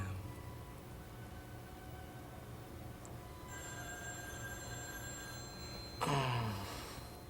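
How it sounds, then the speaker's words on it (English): A telephone bell rings out clearly near the end, a loud burst breaking over a steady low hum and faint tones in an indoor scene. "The phone is ringing."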